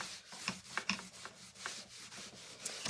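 Wax is rubbed and buffed onto a wooden sign with soft, steady strokes, a close, quiet rhythmic rubbing with light scuffs and no talking.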